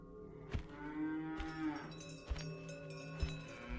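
Cattle crossing a road, several drawn-out lowing moos overlapping at close range, with a few sharp knocks punctuating the herd's calls.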